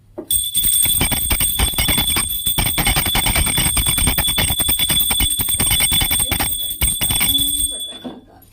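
A bright, ringing prayer bell clangs continuously and rapidly during a Sakat Chauth ritual, loud and close, for several seconds before stopping abruptly.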